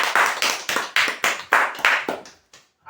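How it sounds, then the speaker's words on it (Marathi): An audience at a prize draw claps hard in unison, about eight loud, sharp, evenly spaced claps that then trail off into quiet. "एकदा जोरदार टाळ्या वाजवा स्वतःसाठी"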